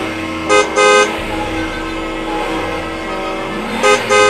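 Car horns honk in Metro Manila road traffic, two short double toots near the start and two more near the end, loud and close over a steady rumble of engines.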